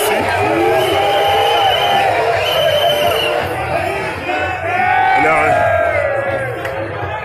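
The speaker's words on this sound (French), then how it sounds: "les gars acclament les scores du président national" A large crowd at a political rally cheers and acclaims, a dense continuous roar of voices with whoops and yells swelling in waves, loud and close throughout.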